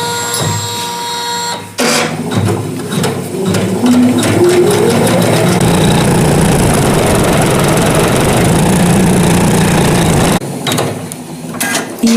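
An Usha 450e embroidery machine starts up and runs steadily, a loud continuous mechanical whir with rapid needle clatter that holds for most of the span before stopping near the end.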